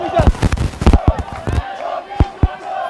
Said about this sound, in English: Crowds from both the sides getting vocal now